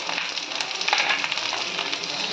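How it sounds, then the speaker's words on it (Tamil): Cloves, cinnamon, pepper and cumin crackling and sizzling in hot oil for a jackfruit seed and potato gravy, a close, steady bright frying hiss with small pops and a brief stir. "இதுலேயே கிராம்பு போட்டுக்குங்க பட்டையை போட்டுக்குங்க மிளகு ஜீரகம்"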